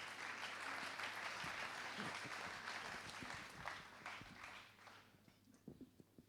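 An audience at an evening awards ceremony gives steady, full applause that gradually fades to a few scattered claps and footsteps in the hall.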